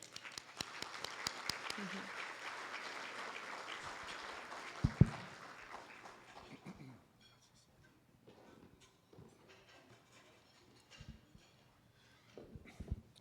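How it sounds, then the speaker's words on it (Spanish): Audience applause welcoming a speaker at a talk on Mexico–US relations and the USMCA review, a dense wash of clapping over the first several seconds that thins and fades into quiet room noise with scattered sounds. "ahora acompáñame por favor a recibir con un fuerte aplauso a Alejandro Gómez"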